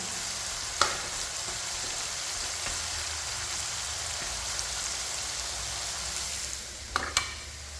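Onion frying in oil for a bitter gourd gravy, a steady dense sizzle and crackle close up, broken by a few sharp stirring clicks.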